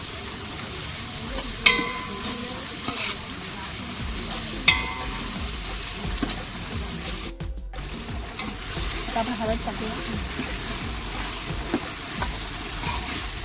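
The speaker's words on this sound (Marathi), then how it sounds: "आता थोडा कांदा शिजत आलेला आहे आता आपण त्यामध्ये टॉमॅटो टाकणार आहोत" Tomatoes are added to onions cooking in a large pot of bean curry for a crowd, with steady sizzling under repeated scraping stirs and a couple of sharp clanks from the utensil.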